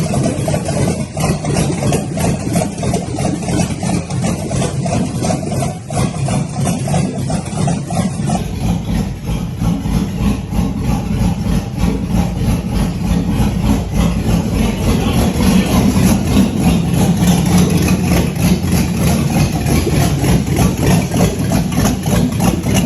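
A turbocharged Chevrolet Tahoe engine runs at a steady, rumbling idle, loud and close with a constant low drone, and the tone shifts slightly partway through.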